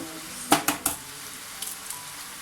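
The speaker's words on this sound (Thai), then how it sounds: "จากนั้นใส่ไข่ลงไปเลยนะคะเพื่อน" Eggs dropped into a hot pan of stir-fried pork, squid and carrot, giving a few sharp close clatters followed by a soft, steady sizzle and light scraping.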